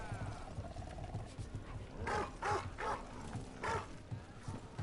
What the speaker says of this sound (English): We can pet the dog.